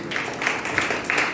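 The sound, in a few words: congregation applause in church service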